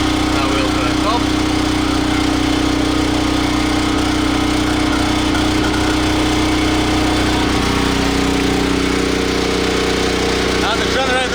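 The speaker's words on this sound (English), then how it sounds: "Now the generator is gonna run for 30 seconds and it stopped." The backup generator on a 45-foot portable solar security tower runs steadily with a loud, continuous engine drone and hum that shifts slightly in tone toward the end, nearby and unbroken.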